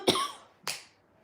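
A person coughs twice, close and clear, a sharp first cough followed about half a second later by a softer second one.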